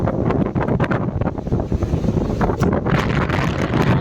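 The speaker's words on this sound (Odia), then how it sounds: "ଅନ୍ଧାରମୟ ପରିବେଶ ଆଉ ପବନ ହିଁ ପବନ" Strong wind roars on a dark, rainy night outdoors, buffeting the microphone with loud, continuous rumbling gusts that rise and fall throughout, with no talk over it.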